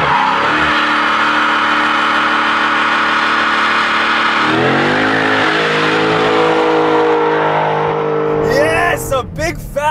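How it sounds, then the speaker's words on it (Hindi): A 2023 Dodge Challenger 392 Widebody doing a burnout, loud sustained engine roar with rising revs and screeching tires, the tone dropping and shifting midway before a final squealing flare, with someone talking at moments. "Gnarly burnout."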